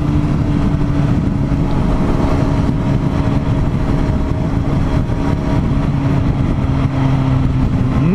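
A Suzuki Bandit 650 motorcycle engine pulls steadily from about 50 km/h, a loud, continuous close-up drone with rising tonal lines as it accelerates, no talk over it.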